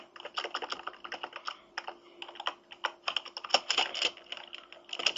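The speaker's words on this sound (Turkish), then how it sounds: "Klavye seslerim fazla geliyor olabilir." Rapid clacking of a computer keyboard during a gaming session, keys struck close to a microphone in quick irregular bursts and steady runs, no talking.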